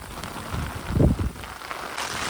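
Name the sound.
heavy rain storm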